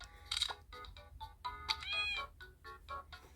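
Several cartoon cats meow in a handheld video game played on an Anbernic RG Slide, with short repeated high mews and chirps over a soft background game tune, clear and close.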